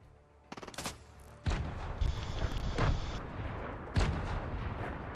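Grenades explode in a video game with several heavy, sharp booms spaced a second or two apart, plus a burst of rapid crackling, loud and close with no talking.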